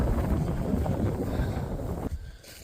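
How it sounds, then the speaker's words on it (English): Wind blowing outdoors in the woods, a loud, close, steady roar of gusts buffeting the microphone that drops off sharply near the end. "I figured I'd pause it for a while and get out of that wind"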